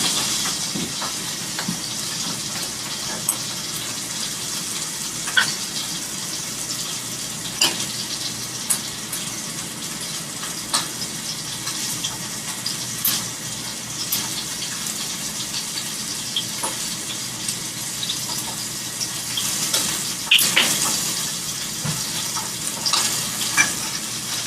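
Fish sizzles steadily in a pan with chipotle barbecue sauce poured on, a constant frying hiss with scattered pops and crackles, close and fairly loud with no talk.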